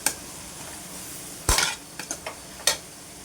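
Onions sautéing with turmeric powder in a pan, a faint background sizzle punctuated by several sharp clinks and scrapes of a spoon against the pan, close by and without voices.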